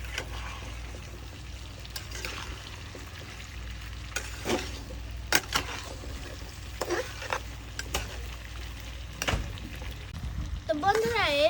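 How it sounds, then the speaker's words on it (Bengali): Onions go into hot oil and are stirred, sizzling steadily, while a spatula scrapes the pan now and then. The frying stays close and continuous, and a voice speaks over it at times. "তো বন্ধুরা তেল গরম হয়ে গেছে, তো এবার আমি পেঁয়াজগুলো দিয়ে দেব। তো বন্ধুরা এবার আমি ভালোভাবে নেড়ে দেব।"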